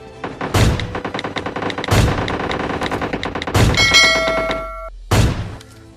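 Heavy gunfire from an MK14 rifle in the battle royale game BGMI, loud repeated bursts of rapid shots broken by four sharp booming blasts, with a metallic ringing tone in between.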